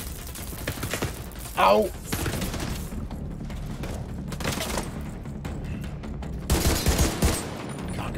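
A grenade blast and bursts of gunfire in the video game The Division 2 come as scattered booms and rattling shots at moderate distance, with a man briefly exclaiming amid the combat.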